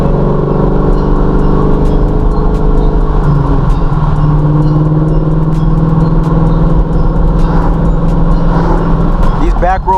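Engine of a 2014 Ford Mustang with an MT82 manual transmission cruising on a back road, a steady loud drone that holds through the whole stretch with a pitch shift partway, as if shifting gears. A voice talks over it.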